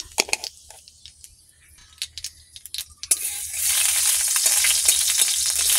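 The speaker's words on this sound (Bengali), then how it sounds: "কড়াটা গরম হয়ে গেছে, তেলও গরম হয়ে গেছে, একটু কালো জিরে দেবো।" Black cumin seeds hit hot oil in a heated wok, a few sharp crackles and taps first, then an abrupt, loud, steady sizzle that continues close and alone.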